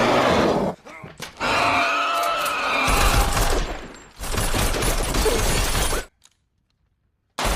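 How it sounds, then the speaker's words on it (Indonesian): Window glass shatters in a horror film scene as a creature breaks into a house, with loud crashing bursts of breaking and chaotic impacts. The noise cuts to near silence at the end. "Robert melihat bahwa jendela rumahnya telah berhasil dibobol."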